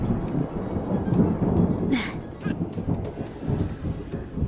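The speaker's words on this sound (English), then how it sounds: "Triple lightning strike!" A triple lightning strike attack in a video game lands as a rumbling, thunder-like crash with sharp crackling bursts over a dense, noisy roar lasting a few seconds.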